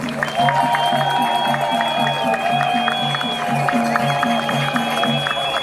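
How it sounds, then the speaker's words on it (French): Outdoor audience at a June 30 march applauding, a sustained loud patter of clapping mixed with crowd noise and a repeating musical or chanted tone running underneath. "Je voudrais que tous ensemble nous applaudissions ces jeunes et nous les félicitions"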